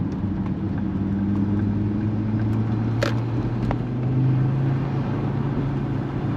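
A Ford Mondeo 2.5T engine drones steadily and slowly builds in pitch and loudness, with a brief click partway through.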